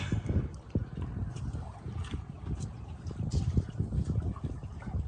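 A sailboat on the Chesapeake Bay in a light breeze of about six knots, with steady low wind rumble and buffeting gusts against the microphone, plus faint lapping water throughout.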